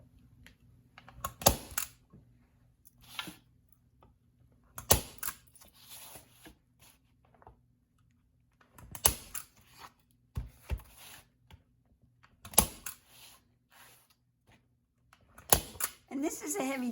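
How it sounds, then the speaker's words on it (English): Arrow Power Shot heavy-duty staple gun driving T50 staples into a wooden yardstick frame: a series of sharp, separate snapping clacks spaced a couple of seconds apart, close and distinct over near silence. "this is a heavy duty staple gun. This is the Power Shot, and I believe it takes a T50 staple"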